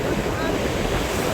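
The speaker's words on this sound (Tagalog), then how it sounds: "Kalalakas ng alon dito mga kaputride." Strong sea waves out in open water around a small boat, a dense rushing wash of water with heavy wind buffeting the microphone, loud and continuous over a brief stretch.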